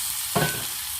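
Sliced tapioca for kolli upperi sizzles in a pan and is stirred, a steady fry punctuated by one sharp scrape of the spoon.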